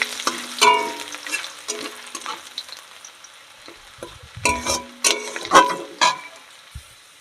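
Chopped ginger frying in a pan, with a quiet sizzle beneath repeated scraping and clinking strokes of a spatula stirring, louder bursts of stirring toward the end.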